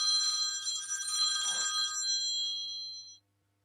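A telephone rings on its own with a steady, bright electronic ring lasting about three seconds, then stops abruptly into silence.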